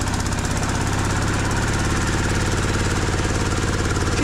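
At a rural market stall in Tangshan, Hebei, a machine grinding frozen chicken into animal feed roars without pause, a loud, dense, rattling engine drone that stays constant throughout.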